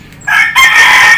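A sick, listless chicken crows loudly and close by, its harsh, sustained call rising in two stages and held without a pause.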